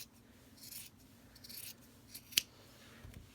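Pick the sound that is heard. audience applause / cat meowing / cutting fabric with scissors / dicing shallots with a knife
cutting fabric with scissors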